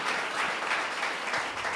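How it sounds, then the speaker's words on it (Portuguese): Church congregation at a conference service applauds together, a dense, steady crackle of many hands clapping at once, loud and continuous throughout with no speech over it. "Vamos aplaudir nosso Deus, vamos?"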